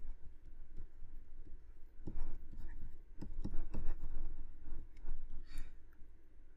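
A pen writing by hand on paper gives soft, close scratching strokes and small taps in irregular bursts, with quiet room noise between them.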